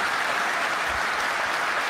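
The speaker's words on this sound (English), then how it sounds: "and that's what they're clapping for." Fans at a Bayern Munich AGM applaud in a dense, loud, continuous wash of clapping from a large indoor crowd, even and sustained throughout.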